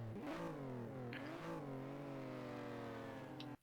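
A drift car engine in the rFactor racing game revs hard under heavy throttle, its pitch climbing, dipping, then holding high and steady before cutting off abruptly at the end.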